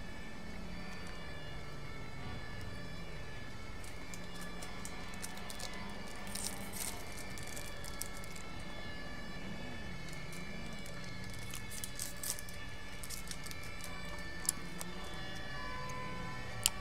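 Fire brigade and ambulance sirens wail in the distance, rising and falling tones drifting over low street noise for the whole stretch.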